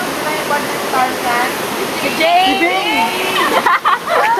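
A waterfall rushes with steady broadband noise throughout, close and loud, while people shout and talk over it.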